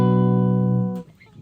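A single sustained major-scale 2 chord sounds from a GarageBand synth, holding steady and loud for about a second before cutting off abruptly.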